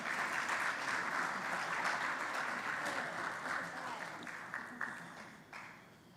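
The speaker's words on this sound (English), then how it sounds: "Let's give them a round of applause" Moderately quiet applause from a conference audience at a country report launch runs steadily, then thins into scattered claps toward the end.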